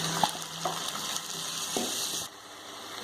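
Tomatoes go into a pan of frying garlic and onion, giving a steady close sizzle with a few soft clinks and stirring sounds. The sizzle drops noticeably quieter near the end.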